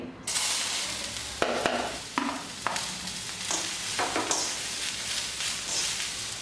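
Vegetables sautéing in a little oil for cheese paratha stuffing, a soft continuous sizzle broken by repeated stirring strokes and scrapes, close up with no one speaking.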